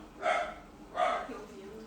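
A small dog gives two short, high barks about a second apart, close by and moderately loud, with a faint whimper trailing after.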